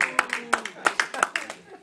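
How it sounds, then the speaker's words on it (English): Scattered, sparse clapping from a small audience at an open house magic performance, a handful of distinct claps with a voice briefly audible alongside. "Give Mike a nice big round of applause"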